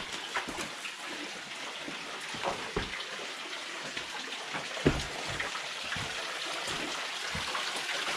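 Willis Creek flows through a slot canyon, a steady broadband wash of shallow running water with small trickles and drips, moderately close and continuous, with no voices.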